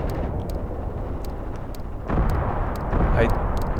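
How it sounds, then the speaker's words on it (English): Mortar strikes landing in the WWII tactical game Graviteam Tactics: Mius Front, heavy booming impacts over a constant rumble of battle, with a louder blast about halfway through and another soon after, distant crackling gunfire throughout. "Drop another mortar strike."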